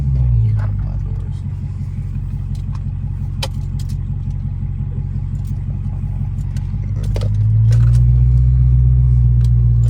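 A 2018 Dodge Charger Hellcat with a straight-pipe exhaust and catch can idles with a loud, deep, steady rumble, swelling slightly louder near the end, as people talk nearby.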